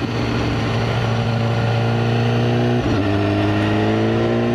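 A BMW S1000RR superbike accelerates hard with a loud, close, rising engine howl that dips once at a quick gear change, then climbs again without interruption.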